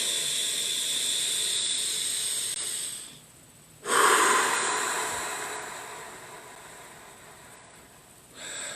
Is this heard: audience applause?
no